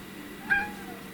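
A cat lets out one short, close meow that rises briefly above a quiet indoor background, with no voices.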